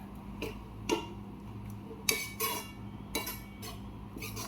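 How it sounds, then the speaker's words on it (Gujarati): Vegetable bhaji is stirred in a pan, with quiet, sporadic metal clinks and short scrapes of a spoon against the pan and a soft background hum. "આમ એકવાર ભાજી હલાવી દઉં"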